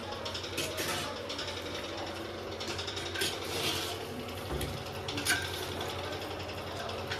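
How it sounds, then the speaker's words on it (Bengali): A metal ladle scrapes and clinks against a pot as marinated mutton in oil is stirred for Champaran handi mutton, a steady rubbing clatter under a background hum with a voice speaking over it. "এবার একটু হাতা দিয়ে আমরা নাড়িয়ে নেবো মাংসটাকে"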